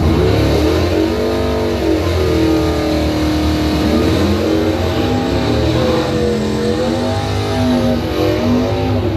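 A 1979 Pontiac Phoenix drag car accelerating hard down the strip, its engine note loud and sustained with rising and falling revs across the whole run, no talk over it.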